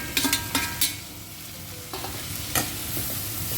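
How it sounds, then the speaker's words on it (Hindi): Tomatoes added to onions frying in a pan, a few sharp scrapes and clatters followed by a low continuous sizzle, with no speech. "अब इसमें डालते हैं टमाटर।"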